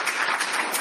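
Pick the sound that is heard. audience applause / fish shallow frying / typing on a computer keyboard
audience applause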